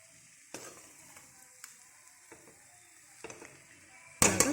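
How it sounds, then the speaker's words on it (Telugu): Broad beans (chikkudu kaaya) stir-fried in a pan give a soft, steady sizzle, broken by a few light scraping stirs and a louder clatter at the end. "కలుపుతూ మనము కలుపుతూనే ఉండాలి ఇప్పుడు రెడీ అయిందండి ఫ్రై చిక్కుడుకాయ ఫ్రై"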